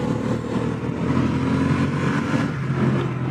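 Honda CB750 Hornet motorcycle pulling hard in third gear, a steady loud engine drone rising in pitch as it accelerates, heard close throughout with no talk over it.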